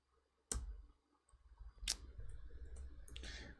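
A computer mouse being jitter clicked during a Hypixel Skywars game gives sharp, isolated clicks followed by a denser patter of fast clicking, close and fairly quiet.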